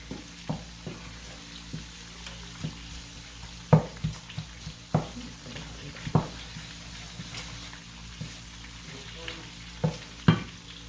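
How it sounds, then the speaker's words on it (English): A flour mixture cooking in a pan while a spoon stirs it, low sizzling under regular scraping strokes that come roughly every second, close by with no talk. "I'm just gonna mix that all in until that flour taste is cooked out."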